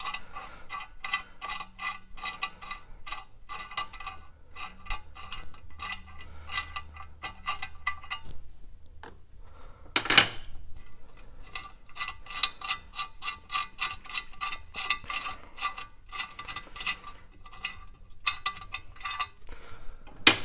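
Ratchet clicking steadily while backing out exhaust manifold studs on a GM truck, dense rapid ticking bursts with brief pauses and a sharper clank around the middle, close and fairly quiet, no talking.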